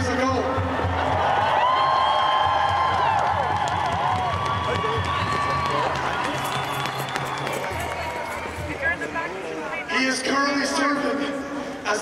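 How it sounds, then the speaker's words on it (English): A rally crowd at a ceasefire protest cheers and applauds a surgeon who has just arrived from Gaza. The noise is loud, dense and continuous, with shouting voices mixed through it and a fresh swell of clapping near the end. "I want you to all give a round of applause to the Dr. Al-Qassam"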